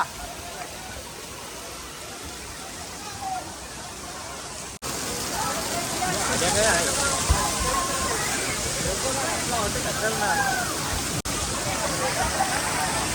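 Water pours and splashes heavily at a water park amid a noisy crowd, voices and shouts mixed into the steady rushing gush.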